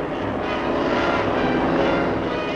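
Japanese bombing planes drone overhead during the Sino-Japanese war, a continuous loud propeller-engine roar that stays steady throughout, heard without talk.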